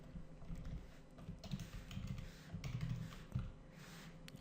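Quiet, steady typing on a computer keyboard, with soft irregular key clicks running the whole time and no talking.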